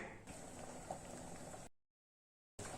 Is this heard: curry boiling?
yes